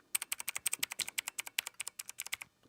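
Rapid, evenly paced typing on a mechanical keyboard with blue switches, a crisp run of sharp clicky keystrokes heard close up and alone.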